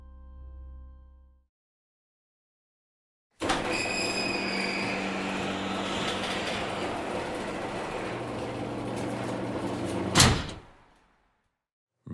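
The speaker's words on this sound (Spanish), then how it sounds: "el sonido de la puerta del garaje cerrándose detrás de Dani llegó a sus atentos oídos" A garage door closes with a long rolling rumble that runs steady for several seconds, then ends in a sharp clunk as it shuts, followed by silence.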